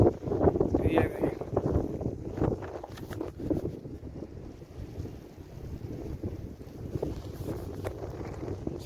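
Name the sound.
wind blowing outdoors in a Saudi village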